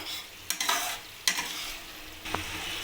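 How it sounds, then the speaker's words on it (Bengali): Spices with garam masala and sugar fry on a high flame for a cabbage dhoka curry, giving a steady close sizzle broken by a few sharp spatula scrapes and stirs, with no voices. "গরম মশলা আর চিনিটা আমি এই মশলার সাথে ভালোভাবে আবার কষিয়ে নেব"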